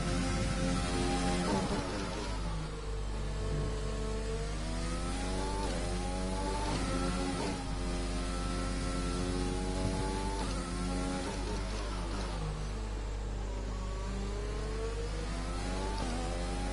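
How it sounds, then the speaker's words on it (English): A race car engine in a racing video game set in Australia, revving steadily and rising and falling in pitch with gear changes, loud and continuous throughout with no voices. "Me and Devola are driving around Australia and practicing for tomorrow night's race."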